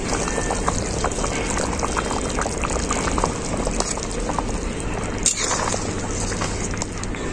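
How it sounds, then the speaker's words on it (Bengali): Chicken and new potato curry broth boils steadily in a pot, producing continuous bubbling and gurgling at moderate volume throughout with no talking. "তারপরে ঝোলটাকে খুব ভালো করে ফুটিয়ে নেব। ঝোলটা আমার খুব ভালোভাবে ফুটে গেছে।"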